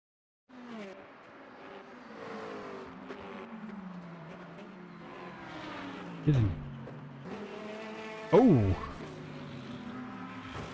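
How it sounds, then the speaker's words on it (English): A GT3 race car in the Le Mans Ultimate racing game crashes heavily into a barrier. A droning engine with shifting pitch is broken by two sharp, loud impacts, each followed by a sudden drop in engine pitch. "Oh, that's a proper crash."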